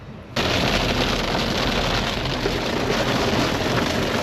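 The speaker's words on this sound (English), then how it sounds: "hitting the storm of the century right here, driving along the highway." Heavy rainstorm on a French highway near Rouen, heard from inside a moving car: a dense, loud, continuous roar of rain drumming on the vehicle starts abruptly and holds steady to the end, with no voice.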